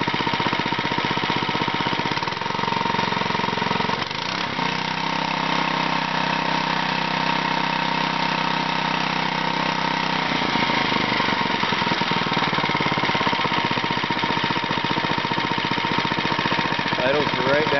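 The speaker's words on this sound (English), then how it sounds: "Idles right down. Oh, that's a nice little engine." A small engine runs steadily at idle, a continuous low mechanical hum and putter that settles into an even drone after a brief change in pitch.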